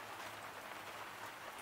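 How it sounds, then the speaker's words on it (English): Rain falling outside, heard from indoors as a steady, soft patter and hiss with faint scattered clicks, continuous and fairly quiet throughout. "So it's raining outside. If you hear some clicking, it's raining."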